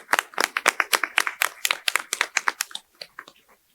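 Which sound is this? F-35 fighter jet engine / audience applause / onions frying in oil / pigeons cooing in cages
audience applause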